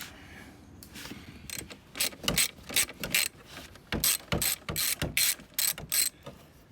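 Ratchet backing out T30 screws from a Jeep JL Wrangler front fender, giving quick bursts of close, crisp pawl clicking in a steady rhythm with short pauses between strokes.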